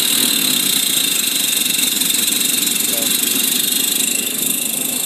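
A 1973 Toyota FJ-40 Land Cruiser with a 1F engine runs on its first start, a loud steady close idle that holds evenly throughout, with voices over it.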